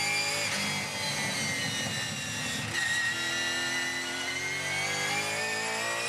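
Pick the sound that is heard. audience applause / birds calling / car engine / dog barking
car engine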